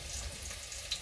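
Potatoes with onion frying in a pan, a steady soft sizzle throughout, close and fairly quiet with no talking.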